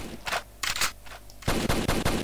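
Video game gunfire in first person, with scattered shots early and then rapid, loud automatic bursts that fire continuously near the end.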